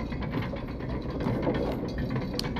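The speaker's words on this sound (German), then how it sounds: "dann stellen wir uns nochmal einen Bolzen her" A crossbow bolt being crafted in The Evil Within, a steady mechanical ratcheting and clicking of parts being assembled under a dense, even rumble, close and continuous.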